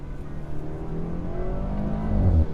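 An all-wheel-drive BMW pulls hard in a rolling launch, its engine note rising steadily in pitch and loudness as it accelerates, close and alone with no talk.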